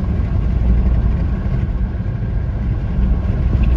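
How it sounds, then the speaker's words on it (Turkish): Combine harvesters working a field nearby, a steady low mechanical engine drone that holds constant and fairly loud throughout with no breaks or talk. "Şurada da biçeriler çalışıyor."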